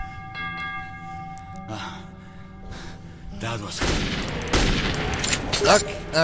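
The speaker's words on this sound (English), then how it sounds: "Whoa! Don't stop shooting!" Gunfire in the video game Metro 2033, with a few scattered shots building into a dense, loud burst of sustained firing over the game's sound, and a voice gasping under it.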